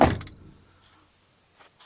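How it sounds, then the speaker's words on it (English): A car door shuts with one solid, close thump at the start, fading into quiet, after a new door has been installed on the vehicle. "I'm going to close the door."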